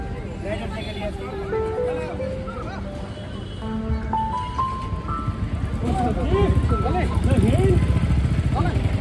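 Many motorcycles in a group bike rally on a road near the Teesta bridge in the Kalimpong hills, engines droning steadily and building louder toward the end, with people talking over the noise.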